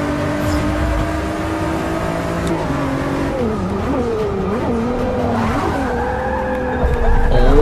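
Nissan GT-R race car in Forza Motorsport 6, engine droning steadily with pitch sweeping up and down through corners, tires skidding and squealing, close and loud throughout.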